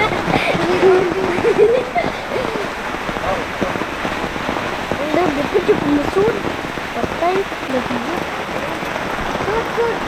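Heavy rain pours down steadily in a rural Philippine setting, a dense continuous hiss that stays loud throughout, with voices talking intermittently beneath the downpour.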